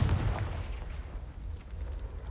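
Confringo fire spell blasts in the Hogwarts Legacy video game, a heavy booming explosion up front that rumbles and decays into a lingering low crackle.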